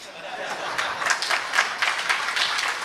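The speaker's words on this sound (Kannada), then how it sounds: "ಎಲ್ಲರೂ ಚಪ್ಪಾಳೆ ತಟ್ಟಿದ್ರಿ" An audience claps together during a Chaturmasya religious discourse, a steady wash of hand claps lasting about three seconds at moderate level with no talk over it.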